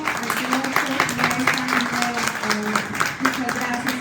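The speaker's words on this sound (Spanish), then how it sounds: "vamos a dar un aplauso al señor" Audience applause at an academic talk on procedural reform and the legitimacy of justice, a steady wash of clapping that runs the whole stretch with a voice speaking over it.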